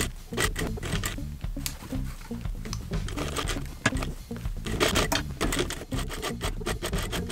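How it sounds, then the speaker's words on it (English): A sewing machine stitches in the ditch of a seam on wide leg pleated pants, giving a close, rapid mechanical clatter in uneven bursts with short pauses and taps between runs. "So I'm just stitching right in this seam"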